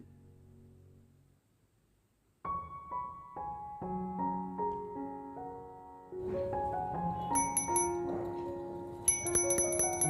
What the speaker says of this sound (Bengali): ঘন্টাটা যখন টুং করে বেজে ওঠে আমার কাছে খুবই ভালো লাগে খুব মিষ্টি একটা শব্দ হয়